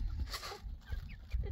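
Egg-laying chickens clucking close by at a nomadic family's home, several short, loud clucks and squawks in quick bursts.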